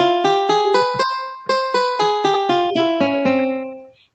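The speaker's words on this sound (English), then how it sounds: "Then let me put it to guitar." A computer music program plays a synthesized guitar voice: a quick, bright run of plucked notes that steps downward and decays to silence at the end, with no speech over it.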